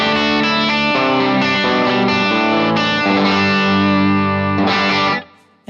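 Distorted electric guitar through a Fractal FM3 cab with only the 57 mic soloed, playing loud sustained chords and riffs that cut off abruptly near the end.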